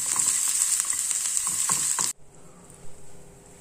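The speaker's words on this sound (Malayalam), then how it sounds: "ഉള്ളി നന്നായിട്ടൊന്ന് വറുത്ത് വരണം കേട്ടോ" Chopped onions sizzle loudly in hot oil in a pan while a Kerala mackerel curry is cooked, with a few stirring clatters, before the frying noise cuts off sharply and a quieter room remains.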